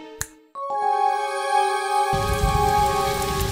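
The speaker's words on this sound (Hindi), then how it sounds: "पानी बरस रहा है" Cartoon rain sound effect in an animated robot-boy show, starting with a few bright chiming tones and then a steady, loud broadband patter of rainfall that continues to the end.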